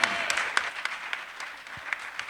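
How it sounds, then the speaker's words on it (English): An audience at a panel discussion claps after the closing remarks. Steady, dense applause from many hands, moderately loud, with scattered sharper claps throughout and no speech over it. "Can we please give them one last round of applause?"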